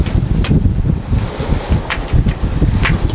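Strong wind of 20–25 knots buffets an anchored sailboat in the Grenadines, a steady low roar with gusting surges and occasional faint high creaks or splashes, no voices.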